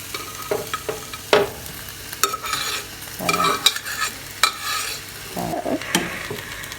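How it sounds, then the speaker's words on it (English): Ackee being stirred into saltfish frying with sweet pepper, onion and garlic in a pan: irregular scraping strokes of a utensil against the pan over a soft sizzle, close and clear, with no talk. "So we're going to now add our ackee to it"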